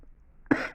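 A single sharp cough from a woman who has had a lingering cough for months, close and fairly loud, following a brief quiet lead-in.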